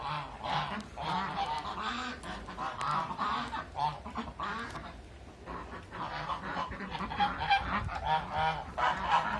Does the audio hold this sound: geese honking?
yes